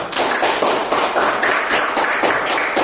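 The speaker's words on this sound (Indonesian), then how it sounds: "Oke, baik, tepuk tangan kelompok 3." Students in a classroom clap for group 3 in a rhythmic round of hand claps, loud and close, with no talking over it.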